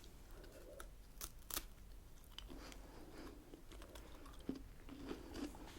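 A British biscuit is crunched and chewed close to the microphone in a quiet ASMR setting, with soft, irregular bites and crackles.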